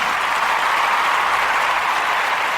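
Steady applause from a crowd, dense rapid clapping holding at an even loudness throughout the short stretch.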